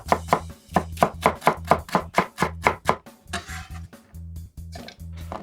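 A knife chops fibrous ginger into a fine puree for a kalbi marinade, a fast run of about a dozen sharp, evenly spaced thuds on a board, then a brief pause and a few more scattered chops, close and clear.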